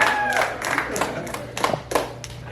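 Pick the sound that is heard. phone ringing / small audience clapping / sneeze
small audience clapping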